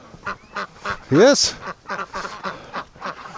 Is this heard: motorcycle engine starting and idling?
no